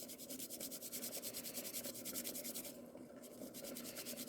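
Garlic and ginger are rubbed on a small mini grater in a motorhome kitchen, a fast steady rasping scrape repeating in quick even strokes, close and quiet, with a short pause near the end.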